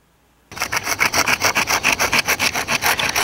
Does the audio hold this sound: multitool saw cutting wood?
yes